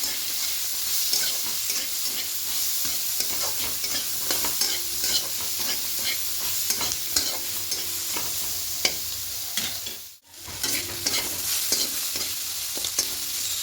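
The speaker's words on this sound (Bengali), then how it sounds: "এবার খুব ভালো করে একটু বেগুনটাকে ভেজে নেব।" Eggplant frying in a pan with turmeric and green peas, a continuous close sizzle with repeated scraping stirs throughout and a brief dip near the end. No one speaks.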